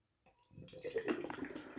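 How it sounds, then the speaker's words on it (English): A can of Rogue Chocolate Stout Nitro beer is poured hard into a large glass, silence then a rising, bubbling liquid rush close up that continues to the end. "So they just say basically crack it open, flip it over, pour it in the glass hard."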